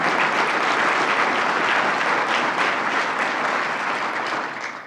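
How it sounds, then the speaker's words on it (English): An audience at an event announcing a SUNY Poly investment applauds in sustained, dense clapping that holds steady for several seconds before tapering slightly at the end. "Let's give a round of applause to Mayor of Utica, Robert Palmieri"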